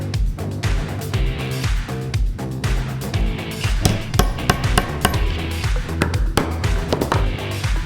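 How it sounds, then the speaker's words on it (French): Matting tools strike leather in a saddlery workshop, embossing relief into the hide. The taps are close and repeat steadily in a quick rhythm, with several sharper strikes standing out against background music throughout. "je réalise le repoussage avec mes outils, qui s'appellent des matoirs. Je grave le cuir en y ajoutant du relief"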